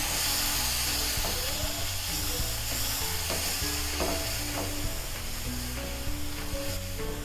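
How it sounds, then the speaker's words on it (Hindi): A spoon keeps working through semolina and ghee in a pan as milk is poured in bit by bit, producing a continuous frying sizzle with irregular scraping and knocks throughout. "थोड़ा थोड़ा करके दूध डालते जाएंगे और चम्मच जो है वो चलाते"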